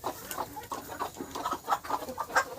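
A red desi rhode island hen clucks in quick, repeated soft bursts, close by and fairly quiet, a steady run of short throaty calls over light background noise.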